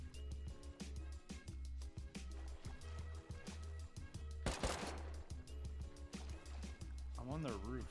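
Rapid bursts of Tommy gun fire in the survival game Rust, repeated regular reports running almost the whole time alongside other game sounds, with players talking over it.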